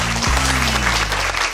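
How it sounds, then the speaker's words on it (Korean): A studio audience on a Korean talk show applauds steadily while a sustained musical tone and a falling synth swoosh play over the clapping. "박수 주세요"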